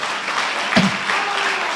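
Church congregation clapping during an online Sunday worship service, a broad wash of applause filling the room, steady and fairly loud. A brief voice cuts in partway through.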